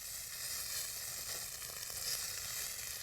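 Corned beef and potato hash sizzling steadily in a hot pan as it browns, a continuous soft crackling hiss with no voices.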